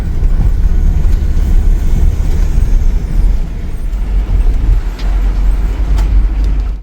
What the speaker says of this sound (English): You can hear that turbo wind up, the V6 EcoBoost